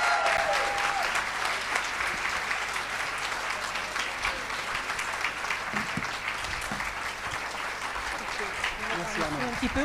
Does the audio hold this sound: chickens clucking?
no